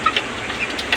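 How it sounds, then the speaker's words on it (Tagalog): Backyard pet chickens in their coops give a few short clucks and chirps over low background noise, close by and brief, with no talk. "Ito yung mga kulungan ng aking mga alagang manok."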